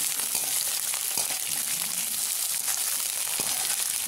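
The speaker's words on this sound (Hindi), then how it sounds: "अब मैं डालूंगी इसमें प्याज और मिर्ची, इसमें डाल दिया मटर" Onion, green chilies and peas frying in hot oil with mustard seeds in a home kitchen pan while making Maggi noodles, giving a steady, dense sizzle with occasional soft stirring clicks throughout, no voices.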